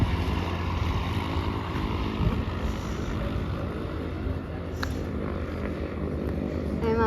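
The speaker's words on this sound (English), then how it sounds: "Emma, we got one coming in for landing." A low, steady engine rumble from an airplane approaching to land at Santa Monica fills the whole stretch without fading. Outdoor background noise sits under it, along with faint voices.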